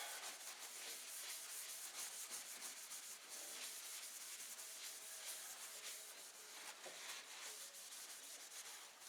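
Cloth rubbing excess finish off a new wooden handle, a quiet continuous scrubbing and wiping with a soft, rapid back-and-forth rhythm, close up with no talking.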